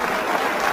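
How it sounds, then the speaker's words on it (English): A crowd at a speech bursts into dense, continuous clapping and cheering, a steady wash of applause with no pauses. "Who's cheering in the background?"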